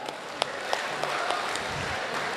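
An audience at an Eid Milan mushaira poetry gathering in Lucknow applauds, a steady moderate wash of clapping with a few sharper individual claps, heard from within the hall.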